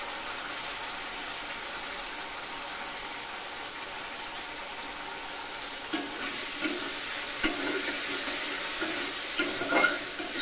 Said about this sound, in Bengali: আলুটা দিয়ে নেড়ে চেড়ে ভালোভাবে মশলার সঙ্গে একটু কষিয়ে নেব।